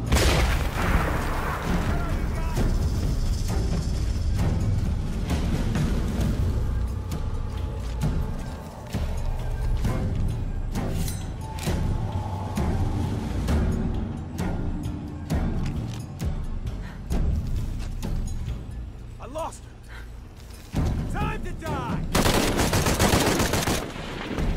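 Heavy gunfire in the video game Shadow of the Tomb Raider: dense, loud bursts of automatic fire and shots mixed with booms and impacts, coming in waves for over twenty seconds amid busy battle noise.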